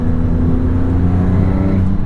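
A 2022 Maserati MC20 engine revs hard while accelerating, a loud, close, continuous growl with a rising harmonic drone that climbs in pitch toward the end.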